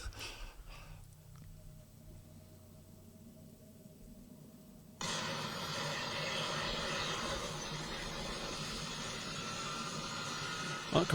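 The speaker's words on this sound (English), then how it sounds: "Oh, commercial for a jet car." A jet-powered car's engine rises from a faint hiss into a loud, sustained roaring rush that holds steady for several seconds, with a quieter breathy stretch before it kicks in.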